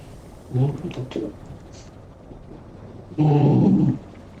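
A dog growls low beside a computer indoors, two short rumbling bursts separated by a pause, the second longer and louder, with a stormy backdrop and faint room noise.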